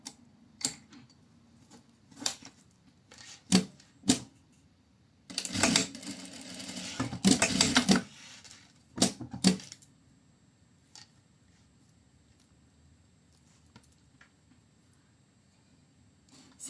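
An old sewing machine stitching fabric, heard close in sharp isolated clacks at first, then two dense rattling runs of a couple of seconds each, followed by a few more single knocks and a quiet stretch.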